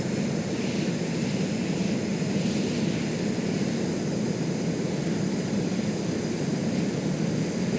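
Aircraft in flight in the video game Stormworks, a steady loud engine drone with airy rushing noise, constant and unbroken with no talking.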